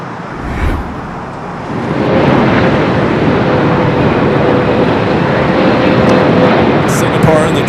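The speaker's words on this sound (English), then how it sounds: "Singapore and the 777 arriving there on the north side." A Boeing 777 from Singapore arriving on the north side at LAX makes a broad jet roar that swells after a couple of seconds and then holds steady and loud.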